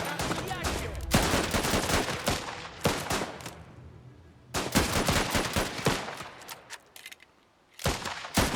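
Gunfire in the game Last Train Home: dense, loud volleys of rifle shots crackle in repeated bursts, with brief lulls between them and faint voices underneath.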